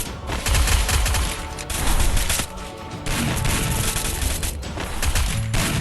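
Rapid automatic gunfire from the Free Fire battle royale game rattles in dense, continuous bursts, loud and close, with brief lulls and booming hits mixed into the barrage.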